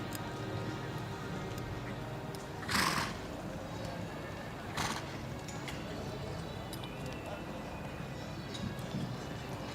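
A horse gives a couple of short, sharp snorting sneezes over a steady background of movement and faint hoofbeats, during a para dressage competition.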